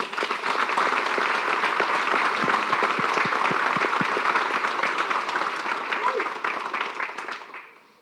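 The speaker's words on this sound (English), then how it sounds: "let's give him a round of applause" A seminar audience at a powerlifting gym claps, producing a loud, dense, sustained burst of applause that holds for several seconds and then tapers off and fades to quiet near the end.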